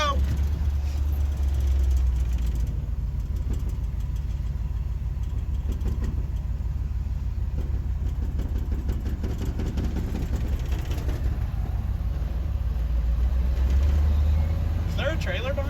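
A hot rod engine runs steadily as the car drives along, a loud, continuous low rumble filling the whole stretch with no break.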